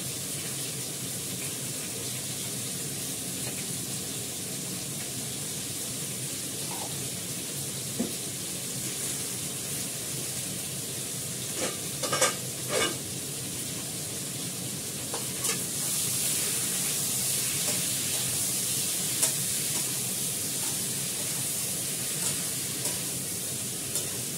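Ginger paste and turmeric frying in a pan for a potato dish, a faint steady sizzle with a few sharp stirring clinks near the middle and a slightly louder hiss toward the end.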